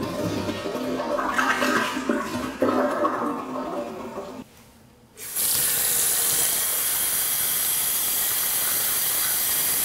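A toilet flushes with a gurgling rush of water, pauses briefly, then gives way to a loud, steady hissing surge that continues to the end.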